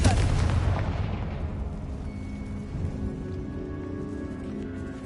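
A Confringo fire spell blasts in Hogwarts Legacy inside a decayed catacomb, opening with a loud booming burst that rumbles and fades into a long crackling tail.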